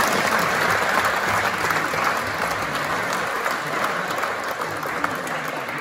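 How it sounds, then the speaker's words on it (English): Audience at a traditional music session in Ennis breaking into sustained applause, a dense steady wash of clapping from a full room that carries through to the end. "you can give him a round of applause"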